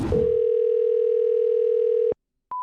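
A steady telephone dial tone hums loudly for about two seconds while calling a coin shop, then cuts off; after a short silence a brief second tone begins.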